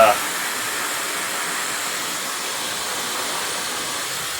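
Negative ion hair dryer blowing on its cool setting, a loud steady rushing airflow that stays even and unbroken from start to finish, close to the listener.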